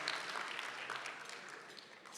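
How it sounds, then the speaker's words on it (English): Audience applause at a mayor's State of the City address, a steady wash of clapping from a crowd that holds at an even level for the whole short stretch, with no voice over it. "How about a round of applause for that?"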